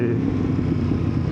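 A Yamaha MT-10 SP motorcycle engine gives a close, deep, pulsing rumble for a brief moment.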